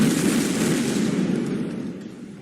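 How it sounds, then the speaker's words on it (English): A massive explosion at a port warehouse fire seen in news footage, heard as a loud, dense sustained roar with rumbling low end that slowly fades over a couple of seconds, with no voices. "People filming a warehouse fire were suddenly knocked off their feet by a massive explosion."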